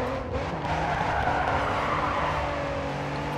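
In the Grid 2 racing game, a car skids under hard braking, its tires squealing loudly and continuously over a droning engine for the whole stretch.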